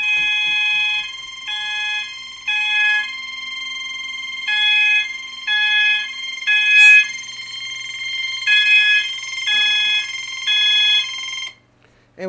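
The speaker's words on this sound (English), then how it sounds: "And we'll go ahead and silence the alarms." Fire alarm system set off from a Professional Fire Systems pull station, loud electronic tones sounding in repeated short pulses with brief gaps, a low hum entering partway through, before the alarm cuts off at the end.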